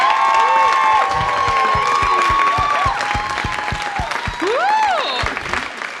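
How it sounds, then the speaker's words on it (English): A summit audience gives a strong round of applause with whoops and cheers rising over the steady clapping, loud and sustained before easing slightly toward the end. "So another round of applause."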